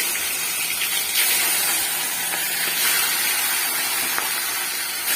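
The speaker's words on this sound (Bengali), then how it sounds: "তেলটা গরম হয়ে এসছে এখন এই মাছগুলো ভেজে নেবো" Steady loud hiss and crackle of fish frying in hot oil, continuous and close, with no talking.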